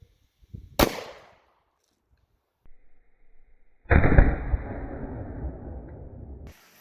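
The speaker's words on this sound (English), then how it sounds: "So let me take one more shot so we can get a capture." A 9mm pistol fires into a ballistic gel block, giving one sharp, loud crack that decays quickly. A few seconds later comes a longer stretch of broad, rushing noise.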